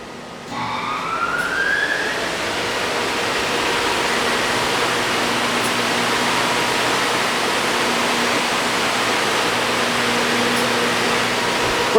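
A Butfering Super 213 widebelt planer/sander runs with a loud, steady broadband roar and a low constant hum, rising briefly at startup with a whining tone, then holding even and near throughout.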